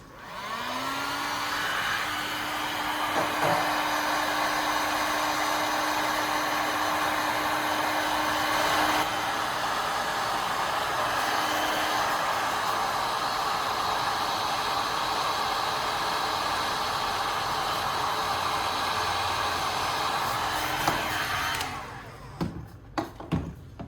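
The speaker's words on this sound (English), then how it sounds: "Now I'm taking a heat gun and carefully heating up the bottom of the soda can." A heat gun blows with a loud, steady whooshing roar, warming the bottom of a soda can up close for about twenty seconds with a faint tonal hum, then cuts off, followed by a few light handling knocks.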